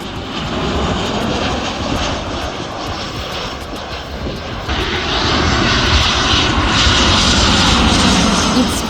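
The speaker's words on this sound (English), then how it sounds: "right over your head, planes land very low" A loud, roaring jet airplane passes very low overhead while landing in Lanzarote, heard from a waterfront walk, the broadband rumble holding steady and then swelling louder toward the end.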